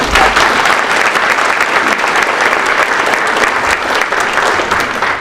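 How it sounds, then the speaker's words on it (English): Loud, dense applause from a large audience at a spring general assembly, many hands clapping continuously and close for several seconds with no talk. "give that a round of applause"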